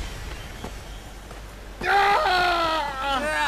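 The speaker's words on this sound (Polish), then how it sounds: "Szukasz Fera, słyszałam twoje krzyki" A voice in the video game Prince of Persia rises into a loud scream after quiet, muffled game ambience, tailing into strained wailing.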